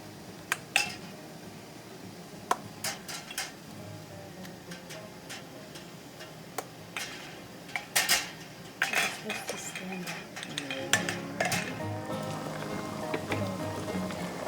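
Glass jars handled in a boiling-hot water canner while making peach jelly: scattered clinks and knocks of glass against metal, sparse at first and then busier, over a faint simmering background.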